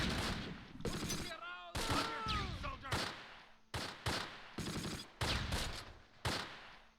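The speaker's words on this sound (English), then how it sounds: "I don't know how long it'll take to set up a 30 cal. There we go. Engage." A 30 cal machine gun in the Close Combat WWII strategy game, set at St. Odenrode in 1944: repeated short bursts of rapid gunfire, loud and close, with a whistling sound partway through and battle ambience between bursts.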